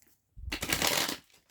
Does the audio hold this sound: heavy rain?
no